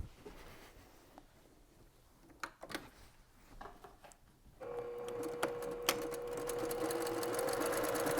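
A sewing machine stitches a tool pouch seam, starting with a few quiet clicks and handling knocks, then running in a steady, close, rising mechanical whir for the second half.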